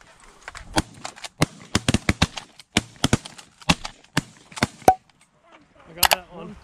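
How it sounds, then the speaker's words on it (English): Shotgun blasts during a goose and duck hunt, roughly a dozen sharp, loud reports spaced irregularly in quick volleys, some overlapping, with faint outdoor ambience and brief voices toward the end. "they're low enough to shoot too. Shoot him."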